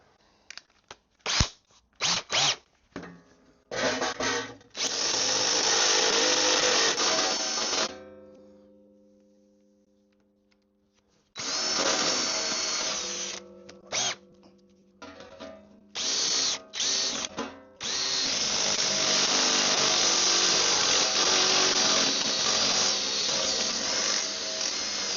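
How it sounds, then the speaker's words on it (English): Power cutter slicing through rusty metal on a Mk2 Ford Fiesta, loud harsh grinding bursts, some short and stuttering, others long and continuous, with brief pauses between cuts where the motor winds down. "So we'll get the cutter."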